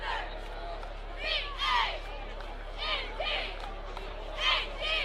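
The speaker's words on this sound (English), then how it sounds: "Great crowd on hand here at Hanover College" Crowd noise at a Hanover College football game against Franklin College for the Victory Bell, a steady murmur of many voices swelling into several cheering and shouting bursts.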